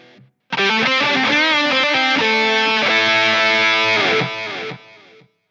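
Sustained distorted electric guitar chords through a pedalboard's gate-triggered reverb and delay ring out with echoes, loud and alone, then trail off into a fading tail.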